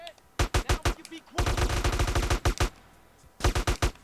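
Automatic gunfire from GTA San Andreas comes in rapid loud bursts: a short volley, then a longer sustained string of shots, a pause, and another quick burst.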